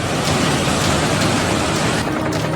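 Heavy, steady downpour from Cyclone Ditwah in Sri Lanka, a loud, dense wash of rain hitting surfaces continuously with no voices.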